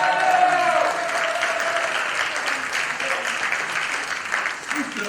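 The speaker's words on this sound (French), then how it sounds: "notre maître de cérémonie Jean-Luc Rangier, qu'on peut applaudir très fort" An audience at an improv theatre match in Nîmes applauds loudly, with dense, continuous clapping filling the whole moment.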